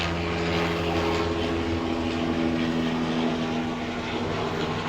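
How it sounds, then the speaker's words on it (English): An aircraft passes overhead, a loud continuous engine drone with a steady low hum that holds at an even level throughout. "What a time for a helicopter to come by."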